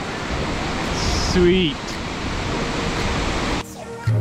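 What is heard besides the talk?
waterfall in the Arrigetch Peaks, Gates of the Arctic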